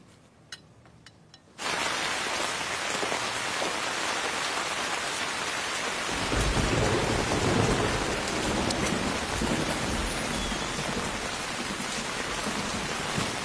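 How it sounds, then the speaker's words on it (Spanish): Heavy rain with thunder bursts in after a quiet moment, a loud, steady downpour hissing across the surfaces, with deep thunder rumbling through the middle of the storm. "Está lloviendo a madre."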